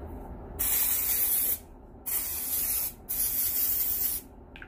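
Hairspray from an aerosol can hisses onto flat-iron curls in three close bursts of about a second each, separated by short pauses.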